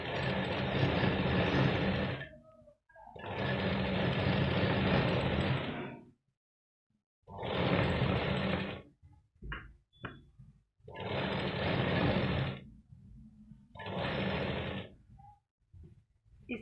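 A sewing machine stitches a seam on a katori-style blouse in several bursts of about two seconds each, separated by short pauses and light handling clicks. The motor whirs close and clear.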